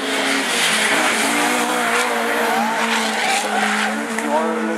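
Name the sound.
rallycross race car driving, skidding on track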